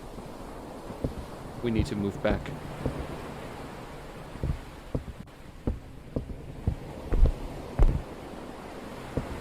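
Floodwater from the sinking Titanic in a video game rushes and roars steadily in the background, with scattered knocks and thuds, while someone talks over it.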